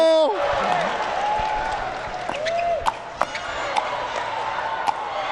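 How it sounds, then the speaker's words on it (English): A tennis crowd cheers and applauds at a championship-court semifinal, loud sustained roar with scattered claps and a few sharp knocks, with whistles rising early on. "Oh, the crowd is going wild. Crowd's loving it."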